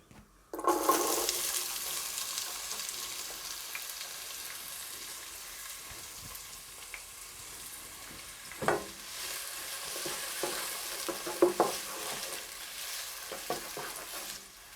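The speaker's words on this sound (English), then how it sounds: "Now I am going to add cooking oil on my saucepan. Then I will add onions." Chopped onions sizzle in hot cooking oil in a saucepan for a Kenyan matoke dish, a steady broadband crackle that flares loudly at the start and keeps frying throughout, with a few louder pops and stirring clatters later on.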